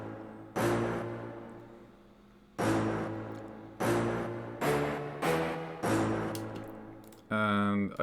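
Heavy, aggressive layered hits from an FL Studio trap beat, six booming strikes at uneven intervals, each decaying slowly over a dark tonal bed, with a stuttering buzzy roll at the end.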